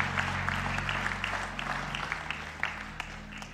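A church congregation claps steadily for a speaker at a gospel service, with a low sustained organ or keyboard drone underneath throughout.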